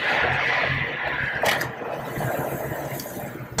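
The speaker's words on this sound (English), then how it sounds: "Pardon the road noise." Road traffic rumbles beside a main road in Fairfield at a car dealership, a steady low drone with a passing vehicle swelling briefly midway, moderately near and without speech.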